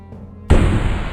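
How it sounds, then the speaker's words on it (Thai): A gunshot sound effect from a Thai horror audio story: one sudden, loud blast breaks a quiet, low background and then rings out in a rough decaying tail. "เสียงปืนดังขึ้นท่ามกลางความเงียบงัน"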